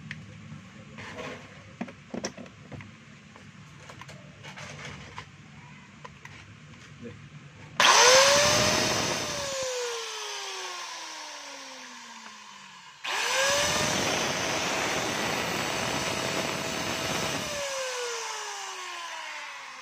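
DeWalt DWE8300S 4-inch angle grinder with noisy bearings, run in two loud bursts of about five seconds each, whining up to speed and winding down after each, following quieter low background noise.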